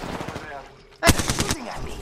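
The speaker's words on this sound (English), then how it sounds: "Shooting at me." Burst of gunfire in the battle-royale shooter Apex Legends, a loud cluster of rapid shots erupting about halfway through after quieter rattling, under faint talk.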